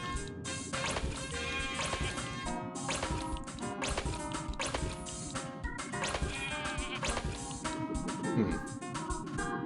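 Repeated sheep bleats from Rocket: Robot on Wheels sound over a busy, bright game soundtrack. Quick splats and clatter come in bursts across the stretch.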